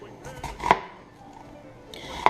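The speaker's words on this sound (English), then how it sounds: "I am going to start with chopping some onion." A medium-sized onion being chopped with a knife for Italian spaghetti sauce, a few close, sharp cuts against a board spread across a short stretch, with quiet pauses between them and a final loud chop at the end.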